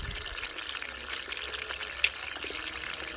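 Laundry being rinsed by hand in water drawn from a tank, with continuous sloshing and splashing and a brief splash accent midway, close by.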